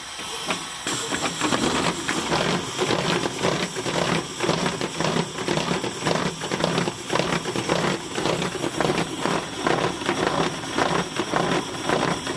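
Pneumatic windshield wipers on a Deuce and a Half military truck run with a steady, rhythmic hissing and chuffing of air, repeating about twice a second, close and constant throughout.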